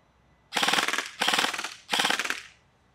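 A Krytac Trident airsoft rifle rips off three loud full-auto bursts, each a rapid, even rattle of shots lasting roughly two-thirds of a second, separated by brief pauses, close and with no talk over it.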